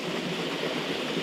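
A waterfall on a Ballyhoura Mountains hiking trail gives off a steady, dense rushing wash of water, constant and fairly close, with no voices.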